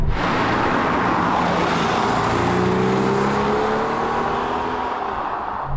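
A Porsche 993 Carrera 4S engine drones loudly and steadily from close by, its pitch rising gently as it pulls along the road.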